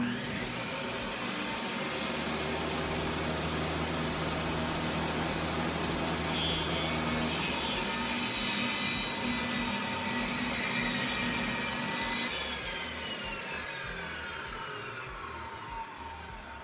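A table saw runs steadily and loudly up close, a continuous whirring motor drone with a shift in tone partway through, then slowly fading; no one speaks.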